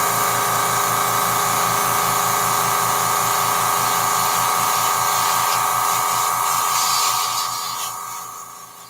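Air compressor running steadily in a workshop during a coating job, a loud continuous mechanical drone and hiss with no talk, fading somewhat toward the end.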